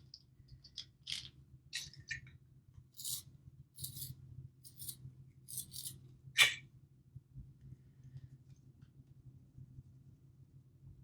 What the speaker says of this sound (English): And then we're gonna go in with the white and we're gonna sharpen it, make it really nice and pointy.